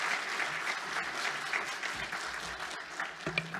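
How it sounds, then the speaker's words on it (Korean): Congregation applause at a Korean church Sunday service in Melbourne, welcoming the preacher to the pulpit; steady, dense clapping from a crowd throughout, fairly distant and even. "우리 나오실 때 환영의 박수, 또 함께 영광의 박수 함께 돌리겠습니다"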